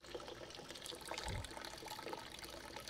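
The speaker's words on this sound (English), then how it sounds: "Plus, it sounds like a little fountain." Water trickles and splashes steadily through a vintage Honda CB450 K0 motorcycle fuel tank during rust removal, a soft continuous fountain-like burble with no talking.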